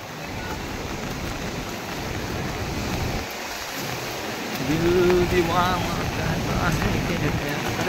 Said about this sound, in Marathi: खूप मोठा पाऊस चालू असल्यामुळे आम्ही इथे जास्त वेळ थांबू नाही शकत